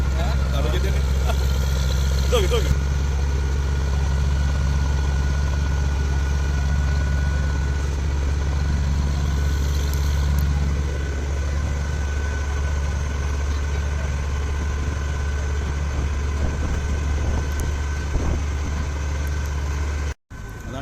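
A jangar ferry's engine drones in a steady low idle throughout, with faint background chatter and other motor noise over the water near Chaliyam.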